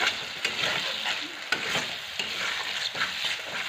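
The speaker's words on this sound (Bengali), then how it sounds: "ভেজে রাখা আলু আর মশলা ভালো করে কষিয়ে নিচ্ছি" Fried potatoes and spices being stirred in an iron kadai, a close, steady sizzle broken by regular scraping strokes of the spatula, with no talk.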